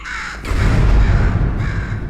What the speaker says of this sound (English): Murder this bird for me?